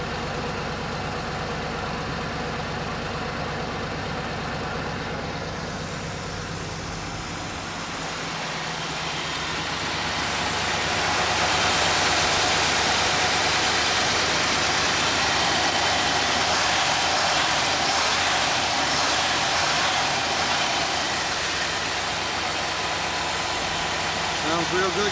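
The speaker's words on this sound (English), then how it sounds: "Nice smooth sounding car now." A 1966 Corvette engine idling, a steady low rumble that swells louder partway through and holds, heard from the back of the car under occasional talk.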